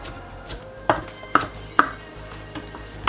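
Knife strikes on a board while roughly chopping Chinese broccoli cut in half, with several sharp, well-spaced chops standing out over a quiet kitchen background.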